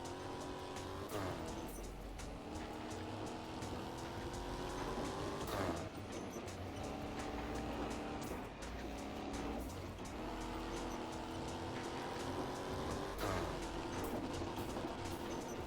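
A Mercedes CLA45 accelerating hard on a top speed run, its engine note climbing steadily through the gears in repeated rising sweeps with brief dips at each shift, loud and continuous with road roar beneath.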